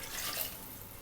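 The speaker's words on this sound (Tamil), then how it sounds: "1 கப் தண்ணி சேர்த்துக்கலாம்." Water poured from a cup into a cooking pan for a Tamil kuska rice dish, with coconut milk and curd already added, gives a steady, close, continuous liquid rush with no talk.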